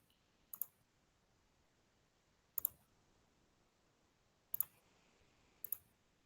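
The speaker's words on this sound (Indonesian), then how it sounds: "saya akan mengetik" Four sparse, sharp clicks on a computer keyboard, spaced about two seconds apart, faint and close in an otherwise quiet room.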